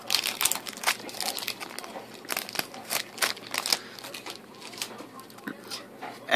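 Crinkling foil wrapper of a Pokémon Plasma Freeze booster pack is torn and rustled open, with dense crackles and sharp crisp bursts close up and steady handling throughout.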